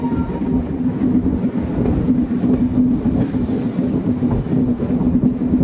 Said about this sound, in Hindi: कोई भी ट्रेन जब जंक्शन पर पहुंचती है और जब ट्रैक चेंज करती है तो उसका ट्रैक साउंड